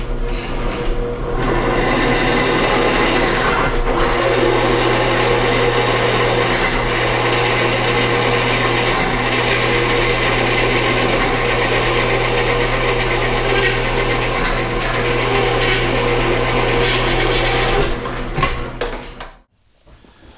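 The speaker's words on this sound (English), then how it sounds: "Now we drill holes, lots of them, 32 total, 4 for each caster." Power drill boring 32 caster mounting holes, four per caster, into the base of an ACME rock crusher, a steady loud grinding whir running continuously before stopping abruptly near the end.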